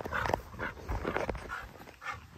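Dogs outdoors whimpering and yipping with breathy panting, a steady close mix of soft whines and quick breaths with no talking.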